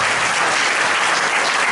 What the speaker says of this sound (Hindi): जब बार जोरदार ताली बजाएं